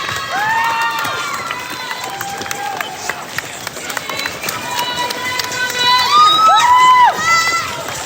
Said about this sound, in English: there might be a bit of cheering, so we'll let you soak up the atmosphere of a Belfast marathon